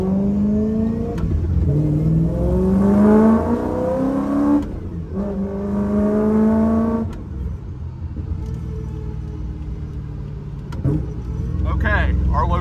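A Ford Raptor pickup truck engine revs and roars past close by in Bangkok, rising in pitch as it accelerates, with a second pass following and people talking over it.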